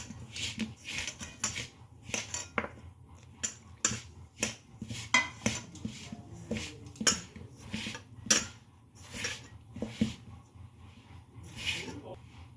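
Rice-flour pitha batter with semolina and salt is stirred in a bowl for patishapta, giving repeated clinks and scrapes of a spoon against the bowl in an uneven rhythm, with a voice speaking now and then.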